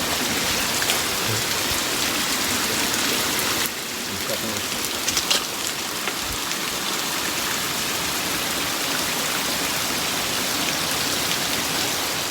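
Heavy rain pours down around a villagers' boat pier under a bridge on the Bang Muang canal in a mangrove forest, a loud, dense hiss that dips slightly partway through and then continues steadily.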